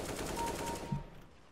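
Rapid automatic gunfire from Counter-Strike: Global Offensive rattles loudly through the whole short burst, then drops away with a final shot at the end.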